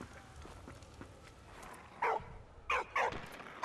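A small dog in the Soldats Inconnus video game gives three short, sharp barks close by over a quiet background.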